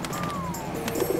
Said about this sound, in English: Oh no! A bird!